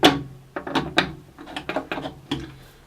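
Metal bandsaw doors swung shut and latched in a workshop, giving a series of about six or seven sharp clanks and thuds spaced unevenly over a few seconds, close and fairly loud with no talk.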